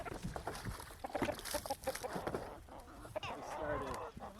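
Hens cluck on a homestead after the roosters were removed, irregular clucks and short calls coming through faintly alongside low voices in the background.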